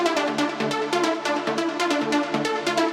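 Big-room trance synth chords processed with Valhalla Room reverb, EQ and sidechain compression, bright stacked tones pumping in a steady rhythmic pulse, loud and alone.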